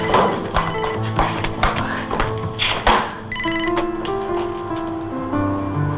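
An old-style telephone bell rings in repeated bursts in an indoor scene, the rings fairly loud and close over background music and light knocks, with no talk.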